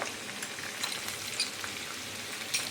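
Onion, ginger and garlic paste frying in oil, a steady soft sizzle with faint crackles and a few brief clicks, near and alone with no talk.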